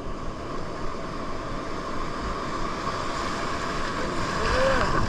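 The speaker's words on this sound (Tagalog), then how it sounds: "Kaso ang lalaki ng alon." Big ocean waves churn steadily beside a fishing spot with sandy, murky water, a continuous broadband wash with wind buffeting the microphone, swelling slightly louder toward the end, no voices.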